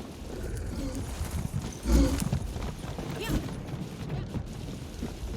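Video game horse hooves clip-clop in a steady rhythm at moderate distance on a mountain path over a rustling background, with a thud partway through.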